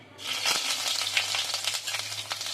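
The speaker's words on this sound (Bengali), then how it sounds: "আমি দিয়ে দিব পেঁয়াজ বাটা" Onion paste frying in hot oil with dried chillies and black cumin, a loud close sizzle that swells right after the paste is added and keeps crackling steadily.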